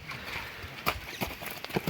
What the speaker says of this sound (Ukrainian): Приїхала така кобила, кобила Сума.